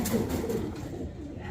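A pair of black Danish pigeons cooing at a pigeon sale centre, a low, muffled, throaty coo close by over a noisy, crowded background.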